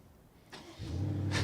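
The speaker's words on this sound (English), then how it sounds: "It's just funny that the engine is starting remotely from the outside." A 2019 BMW M550i G30 with M Performance parts starts remotely through its parking key: a quiet lead-in, then a sharp click and the V8 catching and settling into a low, steady idle nearby.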